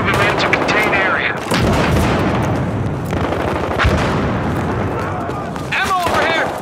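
Grenade blasts and rapid gunfire from a Battlefield Hardline multiplayer match on the Hollywood Heights map, loud and dense throughout, with sharp bursts and booms layered over shouted voices.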